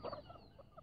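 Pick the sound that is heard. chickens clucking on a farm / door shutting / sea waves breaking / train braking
chickens clucking on a farm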